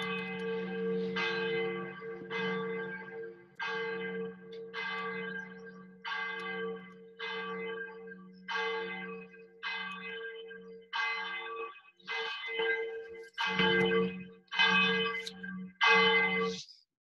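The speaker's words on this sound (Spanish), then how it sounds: "el sonido que acaban de escuchar es el de unas campanas de iglesia." Church bells toll in a steady repeating rhythm, each strike ringing out and fading, growing fuller and more layered toward the end, somewhat distant.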